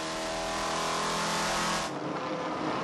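A V8 ute race car engine roars at high revs during a 2011 V8 Utes race at Manfeild Raceway, loud and close, then the pitch drops sharply as the driver eases off near the end.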